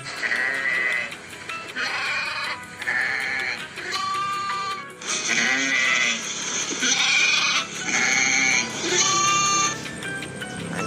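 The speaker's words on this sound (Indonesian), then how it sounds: "Ada hewan domba." Sheep bleat over and over, several loud nasal cries following one another and overlapping almost without a break.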